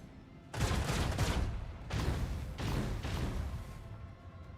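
Torpedoes launching in the Warhammer 40k Rogue Trader video game, several heavy rumbling bursts in quick succession, loud and booming with short gaps between volleys.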